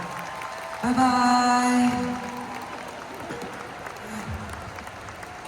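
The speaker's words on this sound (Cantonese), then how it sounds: "俾啲掌聲呢班小朋友" Audience applause for a group of children at a live concert, a brief swell of clapping and cheering mixed with tonal sound that soon drops back, with a voice speaking over it.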